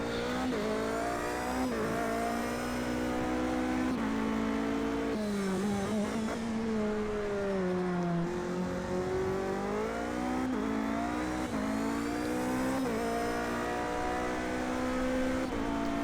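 Race car engines roar continuously in a sim racing game at the Daytona road circuit, including a BMW and a Corvette, a dense steady drone with pitch rising and falling through gear changes and braking.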